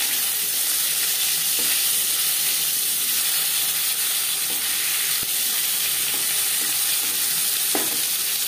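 Nigella seeds crackle in hot oil left from frying fish, a loud, even, close sizzle and hiss that holds steady throughout, with a few faint pops.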